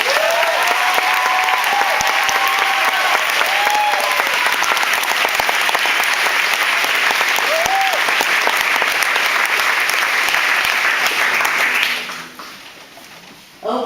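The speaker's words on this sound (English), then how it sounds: "you guys give her a round of applause." Loud, sustained applause from an outdoor festival crowd at a camp, dense clapping lasting around twelve seconds with a few whoops, then dropping away abruptly.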